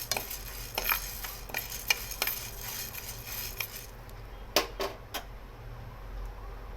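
Sorghum grains stirred in a pan crackle and pop with scattered small clicks and scrapes of the stirring utensil, faint and irregular against a quiet kitchen background with no talk.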